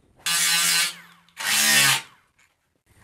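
A carbide burr on a power tool grinding metal on the case of a diesel kerosene forced-air heater, two loud harsh bursts about half a second each separated by a short pause, close up and alone.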